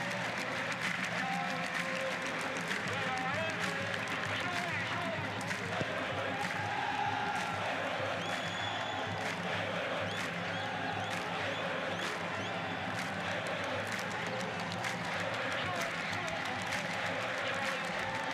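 A large football stadium crowd at an AFC Champions League match between Al Ahli Saudi FC and Shabab Al Ahli, a steady wash of applause and crowd noise throughout, with commentary talking over it.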